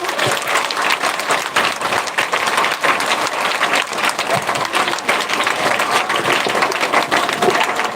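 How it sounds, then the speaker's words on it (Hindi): A worship congregation at an Easter celebration claps loudly together, a thick continuous wave of applause lasting the full stretch, close and energetic, with no clear speech. "जोरदार ताली बजाकर परमेश्वर की महिमा की।"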